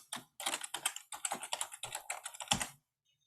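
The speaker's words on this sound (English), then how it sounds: "I'm going to type it." Someone types on a computer keyboard, a close, distinct run of quick key clicks in uneven bursts for under three seconds, ending in silence.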